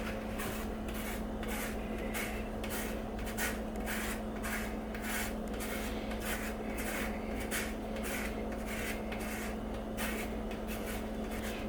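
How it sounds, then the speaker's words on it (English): A fresh lemon, cleaned and dried, rubbed against a grater for cheesecake zest, giving a steady run of quick rasping strokes, close and even, with no talking. "Let's grind some lemon zest, or grate some lemon zest."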